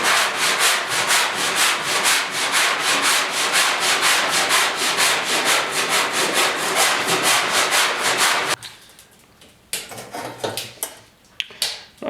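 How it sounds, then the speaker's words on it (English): Hand sanding on a 1969 Ford Bronco quarter panel, close rhythmic rubbing strokes in a fast steady back-and-forth that stop abruptly, followed by quieter scattered handling noises. "I want to get this sanded up here"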